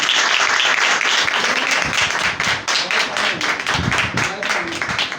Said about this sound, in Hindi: आगे दिलार के लिए जोरदार तालियां